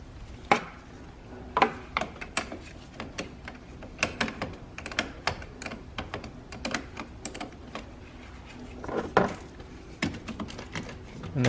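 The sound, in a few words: size 10 wrench loosening car battery terminal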